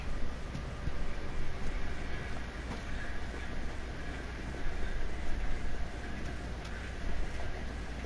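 A subway train in the Resident Evil 3 remake video game rumbles steadily with continuous rolling clatter and wheel noise, loud and sustained throughout without any speech.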